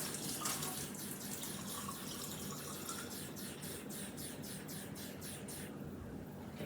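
Tap water runs into a can for a meatloaf casserole, a steady splashing gush with a faint rippling pattern throughout, close and continuous with no voices.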